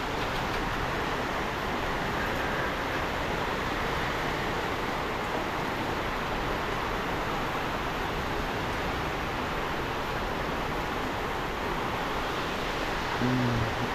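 Heavy rain pours steadily in a Philippine backyard, a dense, unbroken roar of broadband hiss at constant level with no gaps, wind driving it along and no voices heard.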